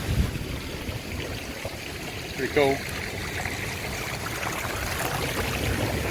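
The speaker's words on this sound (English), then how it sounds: "Nice little waterfall behind me." A small waterfall splashes steadily at a natural swimming hole, its broad rushing wash running continuously beneath a man's brief spoken remarks.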